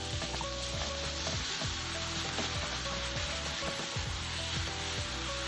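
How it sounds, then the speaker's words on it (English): Ground beef sizzles in a hot pan for curry fried rice while a spatula breaks it into crumbles, giving a constant close frying hiss with intermittent scraping and tapping strokes and no talking. "I'm gonna go ahead and add the ground beef and use a spatula to break up the chunks into small crumbles"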